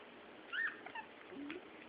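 Shih Tzu puppies whimper and yip faintly while playing, giving a few small high-pitched cries over quiet background.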